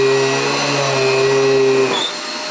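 A Riccar Brilliance R30P upright vacuum cleaner runs with a loud steady motor hum and whine, then cuts out abruptly near the end as it shuts itself down after a brush roll jam.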